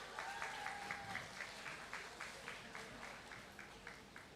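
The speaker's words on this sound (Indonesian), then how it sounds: "Yang merasa dirinya Pemuda Lorong boleh tepuk tangannya mana?" A modest crowd claps at a public youth discussion in Makassar, quiet, fairly distant applause that settles into a loose rhythmic beat, with a brief voice or tone at the start.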